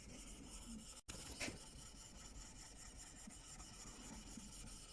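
A blade being sharpened on a waterstone, a steady close rasping rub that continues throughout with a brief break near the start.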